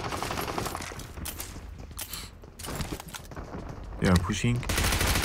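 Rapid bursts of automatic gunfire from PUBG Mobile (BGMI) battle royale gameplay, with the loudest volleys near the end, heard under a player's talk.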